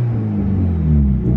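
A Nissan Skyline engine fitted with a new turbo idles close by, giving a loud, steady, deep rumble with a low throbbing hum throughout.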